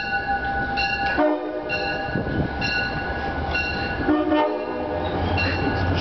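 Locomotive horn blasts repeatedly over the rumble of a passing train, PL42AC locomotive 4028 with Comet IV passenger car 5026; long sustained tonal chords sound at close range, loud and continuous, with no talking.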